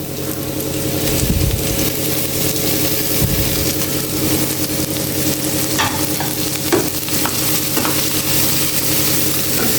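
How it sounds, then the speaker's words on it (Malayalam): Chopped spinach fries in a pan with a loud, continuous sizzle and a low steady hum beneath, while a utensil stirs and scrapes through the greens now and then. "ഇനി നമ്മൾ അതിലേക്ക് അരിഞ്ഞു വെച്ച ചീര ഇട്ട് കൊടുക്കുന്നുണ്ട്"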